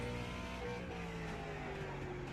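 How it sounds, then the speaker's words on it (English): Late Model race car in iRacing on the Martinsville short track, a steady engine drone with the rear tires sliding, continuous and fairly close, with no voices. "you can just about hear the rear tires just sliding"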